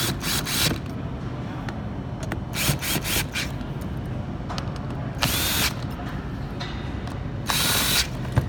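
Bolts being tightened during assembly of a bike, with several bursts of ratcheting clicks and brief power-driver whirs separated by quieter handling noises, fairly close and with no talking.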